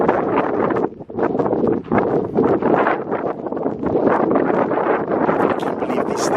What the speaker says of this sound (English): Hopefully you guys can hear me because the wind has picked up.